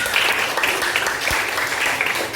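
Dense, steady applause fills a school gathering at SMPN 2 Tanjungpinang, a short close burst of clapping from a group of students and teachers.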